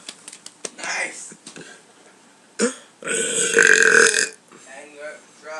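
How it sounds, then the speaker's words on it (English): A person burps several times, with short vocal noises around them, then a loud, sustained burp near the microphone, followed by a trailing gurgle. "You guys want to hear another burp?"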